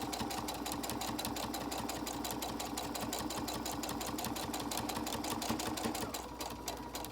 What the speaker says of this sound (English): I'm just sewing with a universal needle.